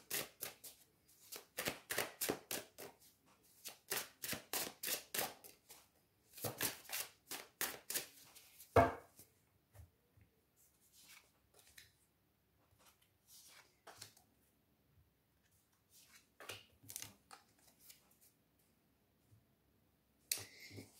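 Tarot cards being shuffled by hand, a rapid run of crisp riffling snaps up close, followed by quieter sporadic slides and taps as cards are drawn and laid out, without speech.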